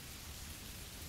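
Steady rain falls as a dense, even hiss of drops on surfaces, soft and continuous with no other sounds or voices.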